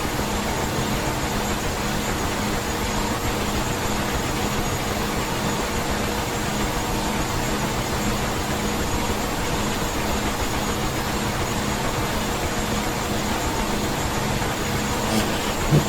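A Huey helicopter engine spools up in the DCS flight simulator game, a steady, droning turbine whine with a constant low rumble beneath, sustained and even for the whole stretch with no voices.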